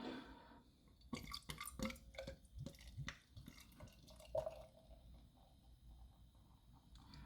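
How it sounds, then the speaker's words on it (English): Samuel Smith's Organic Pale Ale is poured into a clean glass, giving quiet splashing, dripping and fizzing with scattered clinks and gurgles, close and fairly soft, tapering into a faint bubbling hiss. "As always, we're pouring it into a clean glass."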